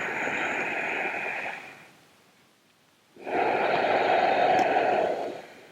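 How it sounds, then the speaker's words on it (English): Several people in a group breathing exercise breathe out noisily together in a long, steady rush of air, pause in near silence for about a second, then exhale loudly again in unison. "Nice noisy breathing."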